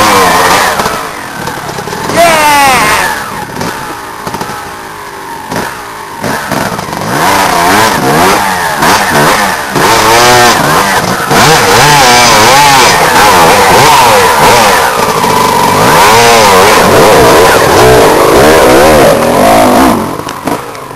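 A 125 cc motorcycle on a trail ride up Mount Tapulao revs its engine hard, the pitch climbing and falling in repeated surges, loud and close throughout.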